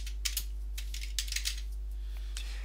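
Light keyboard typing on a computer, a few quick soft clicks in short bursts with pauses between them, faint and close over a low steady hum.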